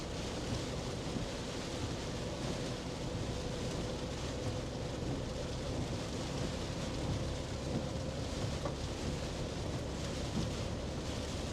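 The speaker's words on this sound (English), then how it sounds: "We can't see anything in this rain." Heavy rain pounds down during a storm on a tornado-risk day in Wisconsin, a dense, continuous roar with low rumbling underneath, loud and steady throughout.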